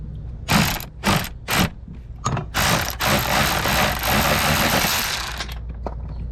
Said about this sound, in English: I'm gonna take my electric ratchet,